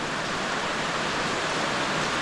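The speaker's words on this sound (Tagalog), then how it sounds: "Ganyan ang makikita habang umuulan." Steady rain falls outdoors among green plants, a dense even hiss that stays continuous and fairly loud throughout, with no voices.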